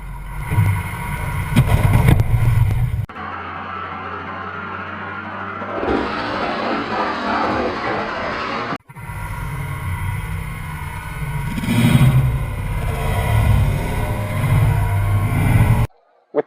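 A Ford diesel vehicle drives over a Trico iron case outdoors, with a steady, loud engine rumble and wind buffeting. The sound cuts abruptly in places and swells briefly midway, with no speech.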